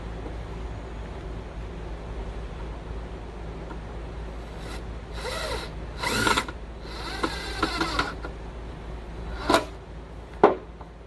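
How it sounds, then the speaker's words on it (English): Quiet room tone, then several short bursts of a power drill driving screws, close by, with small clicks and knocks between them. "So you're going to need a drill."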